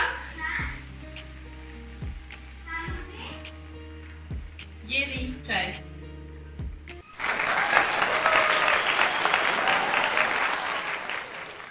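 Hot tandoori chai poured through a strainer into a scorching-hot clay pot, erupting into a loud, sustained bubbling sizzle and fizz that starts abruptly after a stretch of faint background voices and clatter.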